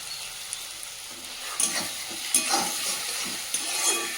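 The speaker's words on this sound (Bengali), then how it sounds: "এবার ঝালের জন্য কিছু কাঁচা লঙ্কা দিয়ে দেবো।" Green chillies go into ginger and garlic frying in a long-used, blackened wok, giving a soft constant sizzle with a few brief stirring clinks and scrapes.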